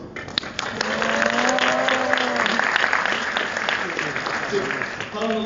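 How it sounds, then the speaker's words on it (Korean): A room of class attendees breaks into loud, brisk clapping that swells quickly and holds before tapering off, with voices talking over it. "와, 박수."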